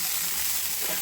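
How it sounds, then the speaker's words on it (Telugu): Ginger paste fries in hot oil in a pan, giving a short burst of continuous crackling sizzle with no voices. "కొంచెం అల్లము పచ్చివాసన పోయేంత వేయించుకోవాలి."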